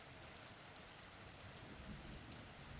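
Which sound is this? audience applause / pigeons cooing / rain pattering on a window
rain pattering on a window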